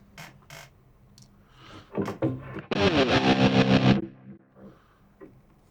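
An electric guitar played through a chorus effect on a Line 6 POD Express, with a few picked notes and then a dense, shimmering strummed chord that rings for about a second before cutting off.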